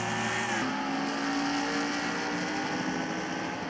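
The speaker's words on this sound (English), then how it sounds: "Green flag, we're back racing here at Dover." NASCAR Cup cars race at Dover in the NASCAR Racing 2003 video game, a dense, steady roar of high-revving V8 engines with a brief pitch shift early and continuous engine drone from the pack.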